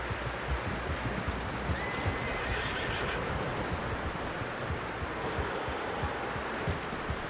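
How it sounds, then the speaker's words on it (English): Horse whinnying with clip-clopping hooves in Red Dead Redemption 2, set over a rustling outdoor ambience; a brief neigh rises mid-clip while hoofbeats and background noise continue steadily at moderate level. "Someone help John down off this horse."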